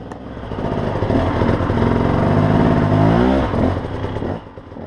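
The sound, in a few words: big adventure motorcycle kick-started and revving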